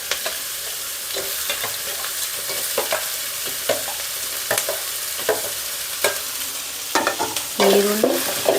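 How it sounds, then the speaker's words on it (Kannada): Onions frying in oil for puffed rice upma, stirred with a utensil: a steady close sizzle under repeated scraping strokes against the pan, louder clatter near the end. "ಈರುಳ್ಳಿ ಸ್ವಲ್ಪ ಬೇಯಲಿ. ಈರುಳ್ಳಿ ಸ್ವಲ್ಪ ಬೇಯಬೇಕು."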